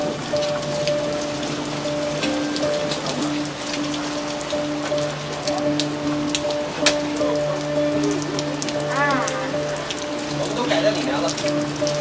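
Steady rain patters on surfaces at an outdoor music festival, a dense continuous hiss with scattered drips, while faint voices and a low hum sit underneath.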